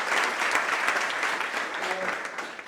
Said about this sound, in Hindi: एक बार जोरदार तालियों से आप तीनों का स्वागत।